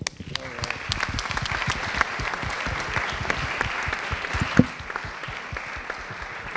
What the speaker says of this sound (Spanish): Un gran aplauso para él.